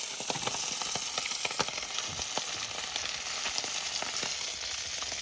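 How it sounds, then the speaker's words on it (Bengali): Fish fries in a pan with a steady crackling sizzle, dotted with sharp spitting pops, moderately loud and with no talk. "এদিকে মাছ ভাজাও কিন্তু হচ্ছে"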